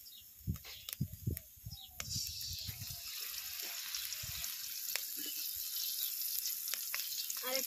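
Leftover fish-frying oil poured into a wok sizzles with a steady, hissing crackle, following a few soft clinks and handling knocks at the start.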